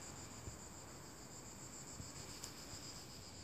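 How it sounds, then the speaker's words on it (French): Cicadas in summer heat in the Rhône valley near Lyon, a dense, continuous high-pitched buzzing chorus, steady and somewhat distant, with a few faint soft knocks underneath. "on entend les cigales, écoutez"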